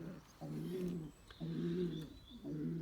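Pigeons in a loft cooing, three rhythmic low coos repeating about once a second, close and clear, with faint chirps and a quiet room in the background.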